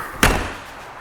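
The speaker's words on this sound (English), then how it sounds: "Close your exterior door." The exterior door of a Flagstaff Superlite 26FKBS travel trailer slammed shut with one sharp, close thud that rings out briefly over an outdoor background.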